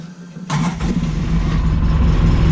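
A 2011 to 2016 Polaris RZR engine cranks and catches after a quiet moment, then settles into a loud, close, rumbling idle with a steady hum.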